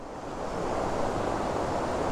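A strong river current in the mountains between La Union and Benguet roars as a steady, broad rush of water, swelling slightly and then holding constant with no voices.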